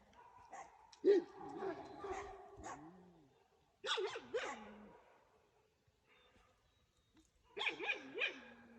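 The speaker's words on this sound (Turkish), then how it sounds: "Manyak bir köpek abi ya." A Kangal dog barks in short bursts, with yips and whiny tones, coming in three separate groups with quiet gaps between them, in the dark.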